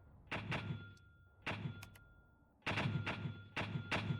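Mortars in Graviteam Tactics fire smoke rounds as sharp thumping reports in irregular pairs and clusters, moderately loud over a quiet background, with a faint tonal hum between shots and no talk.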